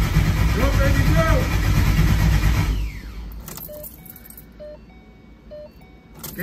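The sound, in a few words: first start of a "Frankenstein Coyote" engine combo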